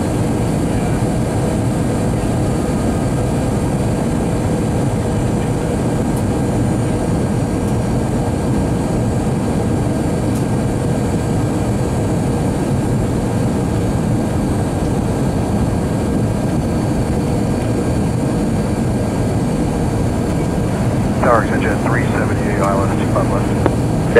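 A JetBlue Airbus A321 jet lands at Los Angeles LAX on runway 25 left, a loud, steady low roar of engines throughout, with faint radio talk underneath.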